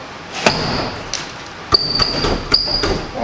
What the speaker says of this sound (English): Won't let me close the door.